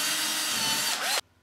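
A power drill bores a hole through a wall for a burglar alarm PIR sensor cable, a loud steady whine that slows briefly near the end before cutting off abruptly into quiet.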